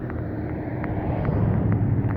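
Traffic rumbles steadily on a street at night as cars pass, a dense low roar with some wind buffeting against the microphone and no voices.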